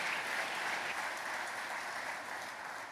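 An audience at Tesla Shareholder Day in Texas applauds in a dense, even wash of clapping that holds steady and eases slightly toward the end, with no voices over it.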